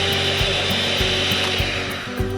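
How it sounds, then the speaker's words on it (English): A cheap electric hand mixer from Kmart, run off a car's inverter, beats cake batter of softened butter and sugar; a loud, steady close-up whir with a rhythmic ticking of the beaters hitting the bowl. "We're using our inverter to run a cheap mixer from Kmart."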